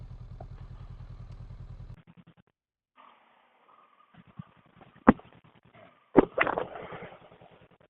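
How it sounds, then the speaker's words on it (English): A motorcycle idles with a low steady putter, goes quiet, then a sharp thump and clatter mark its front wheel dropping into a roadside pothole, followed by a second louder jolt and rattle. "Just dropped my front wheel into a pothole."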